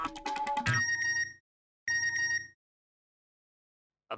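A mobile phone ringtone plays in two tonal bursts, the first busier and more melodic, then a short pause before a second ring cuts off, heard clearly indoors in a Gokuldham housing society sitcom scene.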